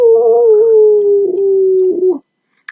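A person imitates a dog's howl, as a Lego figure howls after a block tower is knocked down: one long sustained wavering howl of about two seconds, loud and close, breaking off abruptly, with no other talk.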